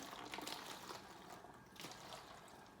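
Vinegar poured through a funnel into a plastic water bottle, a steady liquid trickle and splash at close range that swells briefly then eases, quiet overall with no talking.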